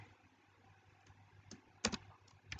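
Quiet, close computer keyboard typing: a few sparse key clicks early, then a sharper cluster of taps and a final couple of strokes, over faint room hum.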